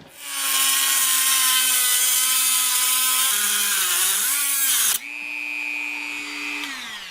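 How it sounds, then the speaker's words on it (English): A high-pitched power saw screams through aluminum rod, with its pitch dipping as the blade bogs down, then a brief change as the cut finishes. "So the first thing I have to do is cut this aluminum."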